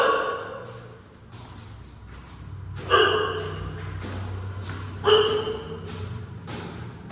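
A dog barks in a house in Guwahati, seemingly shut in alone upstairs. Two sharp barks, one near the third second and one near the fifth, rise over a low steady background hum.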